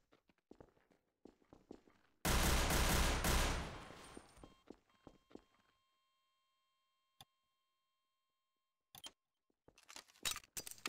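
Gunfire in a video game erupts as one loud, dense burst of rapid shots lasting about a second, surrounded by sparse ticking footsteps, faint clicks and a few later sharp pops.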